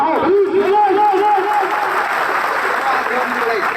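Audience clapping at a Bhagwan Luv Kush birth anniversary celebration in Bandakpur, a steady wash of applause from a gathered crowd lasting a few seconds, with a voice talking over it.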